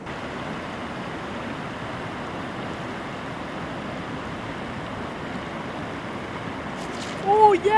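Soft, steady lapping of waves on a lake in Arjeplog, Sweden, a continuous gentle wash with light wind, joined at the very end by a brief burst of nearby voices.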